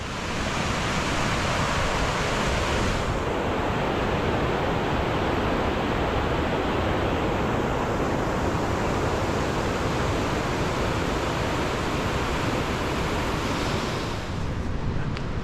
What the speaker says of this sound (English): Right next to a waterfall here.